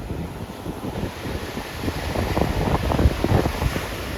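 Sea waves wash against the shore under gusting wind that buffets the microphone, a rough, rumbling wash that swells toward the end, with no voices.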